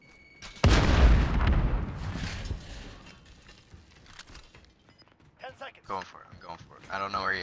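A loud, booming shotgun blast from Call of Duty Modern Warfare in a 2v2 match, followed by a long decaying rumble, with excited voices talking afterward.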